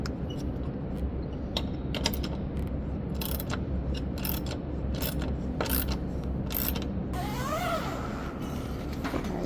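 A ratchet clicks in quick, uneven bursts while driving in a bolt on an awning installation, with mechanical ticks and scrapes heard close by, light and without speech.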